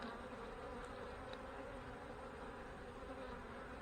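Dense, steady buzzing of a swarm of honey bees around an open hive during an inspection, close and continuous, with no voices and no breaks.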